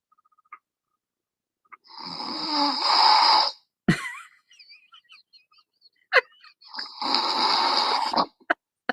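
A recording of a man snoring played back from a phone message: two long, loud rasping snores separated by quiet gaps with small clicks and gurgles, sounding close and slightly tinny.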